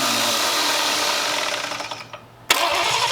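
An abandoned Cadillac 331 hot rod V8 with a weak fuel pump cranks steadily in a continuous whirring drone, close and loud, then winds down before a sharp click near the end.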